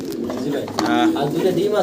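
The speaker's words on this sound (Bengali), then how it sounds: "আবারও একজোড়া ফিলব্যাক কবুতর আমরা দেখতে পারতেছি" Fillback pigeons coo softly and close by in low, rolling calls, with a faint voice murmuring in the background.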